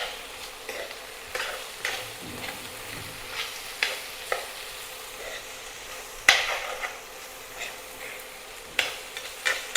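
Potatoes with spices and salt fry in a pan as a spoon stirs them, sending repeated scraping knocks over a low sizzle, close and fairly loud.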